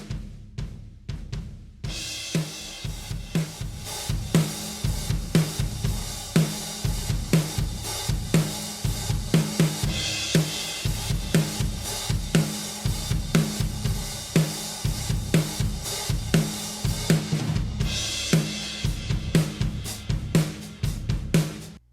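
Drum room microphones sent through parallel compression, producing a steady groove of heavily squashed kick and snare hits with a roomy wash of cymbals, continuous and close for over twenty seconds without voices.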